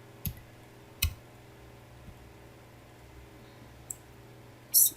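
Computer keyboard keys clicking as Ctrl S is pressed, a few sparse, crisp taps spaced about a second apart, close and fairly loud over a quiet hiss.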